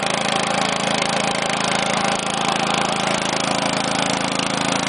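A 5hp Honda engine powering a Craftsman air compressor runs in a steady, loud, close mechanical drone with no pauses or change in pitch.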